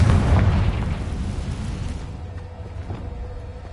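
A Confringo blasting spell sets off an explosion, a loud deep boom up front that fades into a rumbling, crackling decay.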